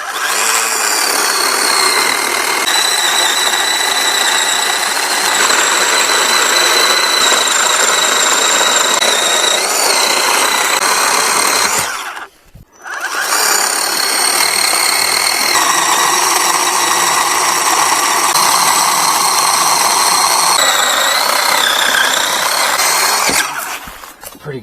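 A cordless 20-volt chainsaw with a 10-inch bar runs at a steady, loud whine while cutting through a log, pausing briefly midway before resuming and continuing to the end.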